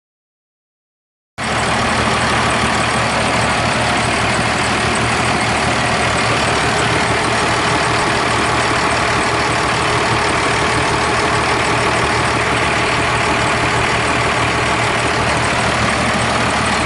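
A car engine fires up after an idle-screw O-ring repair and settles into a loud, close, steady idle that drones on evenly with no voices.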